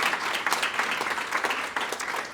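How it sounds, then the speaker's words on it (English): An audience applauds Professor LaBianco at a national educators forum, with dense, steady clapping across the clip at a moderate, even level and no voices. "A huge round of applause, please, for Professor LaBianco"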